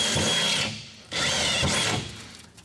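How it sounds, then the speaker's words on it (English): Power drill boring 5/16-inch holes with a step bit through metal during a floor shifter installation on an LS swap car, two loud close bursts of whining drilling separated by a short pause. "So now I'm going to grab my step bit and go to 5/16, because that's the size we need."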